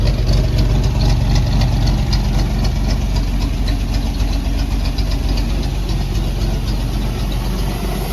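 A Lancia Flaminia engine, just fitted with a Wosp starter, idles steadily and loudly up close. Its even mechanical chatter stays constant throughout, with no talking.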